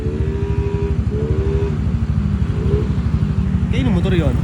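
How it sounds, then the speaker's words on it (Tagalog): A scooter-type motorcycle engine, an NMAX, runs steadily and close by with a droning, pulsing tone, while faint voices are heard in the background. "Kaya yung motor yun."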